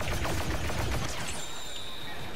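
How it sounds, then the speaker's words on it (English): Rapid turret fire in Star Wars Battlefront 2 Galactic Assault, a loud burst of repeated shots close behind, fading into a thinner rattle with a high whine lingering. "Somebody has a turret posted up behind us."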